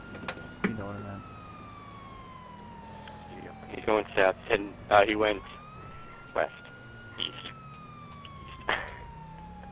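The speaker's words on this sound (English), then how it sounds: "They see the lights, hear the sirens." A police siren in a cops video game wails in a long, falling and rising tone through the whole stretch, while people talk over it in several short bursts.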